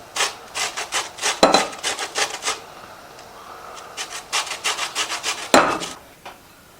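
Washed lemon rind is grated for zest for elderflower cordial, giving close, rhythmic rasping strokes in two runs of quick scrapes separated by a brief quieter pause.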